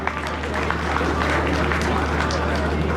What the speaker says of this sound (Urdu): تو کراچی والوں اپنے لیے تو تالیاں بجائیں نا پہلے۔